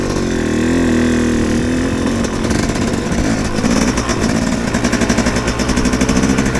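Yamaha YZ250X two-stroke dirt bike ridden in first gear out on a mesa, its loud, close engine buzzing and revving in a rough, pulsing rhythm.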